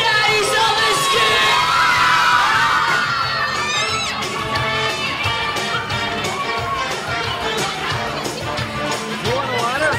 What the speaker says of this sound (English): I want everybody to cheer as we get ready for this man right here.